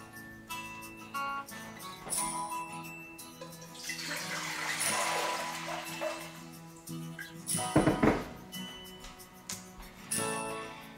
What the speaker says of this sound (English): we'll fill up the pot 1/3 way full of water